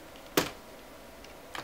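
Two sharp plastic clicks from the diffusion sheets being released inside an Elo Touch ET1928L monitor, one loud near snap followed a second later by a fainter one.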